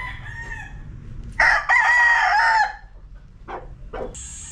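A gamefowl rooster crows once, loud and close, on a native gamefarm in Santa Ana, Pampanga, and a few softer clucks and calls follow over a low farm background.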